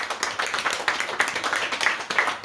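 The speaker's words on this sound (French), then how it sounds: "donc vous pouvez l'applaudir également" An audience at a literary conference applauds, dense continuous clapping with a steady crowded rhythm from many hands throughout.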